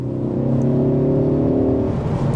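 A remapped Ford Focus ST Mk3 engine accelerates, giving a loud, close, sustained rising drone with a steady rasp from inside the car and no talk.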